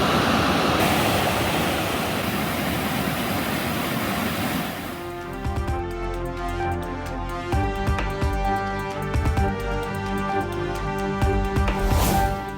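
A waterfall at Kumbakkarai in flood after heavy rain in its catchment, heard as a loud, steady roar of rushing water that fills the whole clip. From about five seconds on, a droning background sound layers over the torrent.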